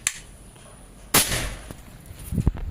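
One crisp report from a Predator Monel folding airgun fitted with a 30 cm Yumaja barrel, a sudden loud crack mid-clip with a brief tail, then small clicks and handling noise.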